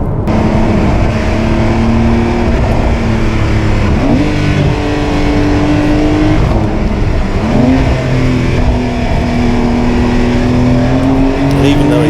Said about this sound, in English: And even though it's wet, it's a tremendous amount of grip and sounds good as well.